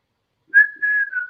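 One person whistles a short sustained note that wavers slightly in pitch, clear and close against silence.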